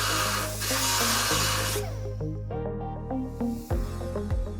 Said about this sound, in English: To do this, mark the area and remove with a rotary cutting tool.